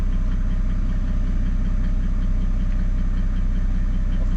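A Mercedes E 300 diesel W210 with a suspected fuel pressure fault idles in a steady, loud, low rumble with a faint knocking clatter, continuous and close, with no talking.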